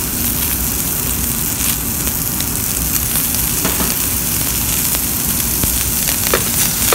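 NY strip steak fries in a pan with garlic and butter, giving a loud, continuous sizzle and crackle with scattered sharp pops.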